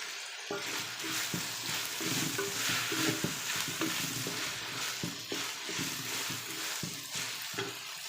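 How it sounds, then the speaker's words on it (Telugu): Mushrooms sizzling in a pan with garlic paste for mushroom fried rice, a steady close frying crackle broken by repeated scraping strokes of a stirring spoon, with no voices. "పచ్చి వాసన పోయేంత వరకు ఫ్రై చేసేసుకోవాలి అలాగే మనం రెడీ చేసుకున్న ఈ మష్రూమ్స్ కూడా ఇందులో వేసేసుకోవాలి"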